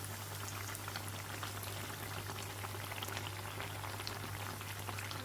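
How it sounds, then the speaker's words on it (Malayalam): Banana fritters (pazham pori) deep fry in hot oil, giving a constant, soft bubbling and crackling sizzle with no pauses and no voices. "ഇനി ഇത് മറിച്ചിട്ട് കൊടുക്കുക രണ്ട് സൈഡും ഗോൾഡൻ കളർ ആകുന്നത് വരെ ഫ്രൈ ചെയ്തെടുക്കുക"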